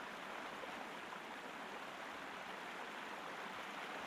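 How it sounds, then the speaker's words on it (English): Loud, steady rush of flowing water in a Roman city setting in Sherlock Holmes: Crimes & Punishments, an even broadband roar filling the whole stretch with no pauses. "That water flowing is loud."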